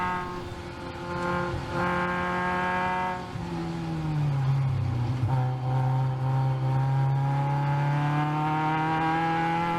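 Caterham race cars racing on a track, a loud close engine note climbing through the gears, dipping at a shift, then holding a long steady high drone as the cars pass.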